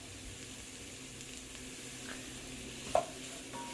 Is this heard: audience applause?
no